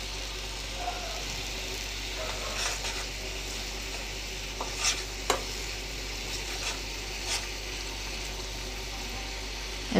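Curry leaves and egg curry in a pan with a little water, giving a soft, steady simmering sizzle with occasional faint pops and stirring clinks, close and quiet, with no talk.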